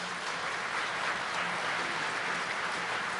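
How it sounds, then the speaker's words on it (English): Steady, dense applause from a crowd honoring co-sponsors at a Chamber of Commerce awards presentation, a continuous wash of clapping with no breaks, heard at moderate level. "So if we could have a round of applause for our co-sponsors."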